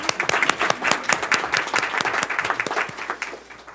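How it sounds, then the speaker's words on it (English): Moderate audience applause at a school board meeting honoring a student, a few seconds of brisk, uneven clapping from a modest crowd, fairly near. "Can you clap?"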